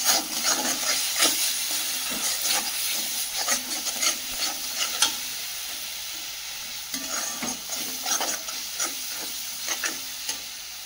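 Ground coriander, cumin and red chili powder are sautéed in a pan with a steady close sizzle and hiss, punctuated by repeated scraping stirs of a spoon throughout, moderately quiet with no voices.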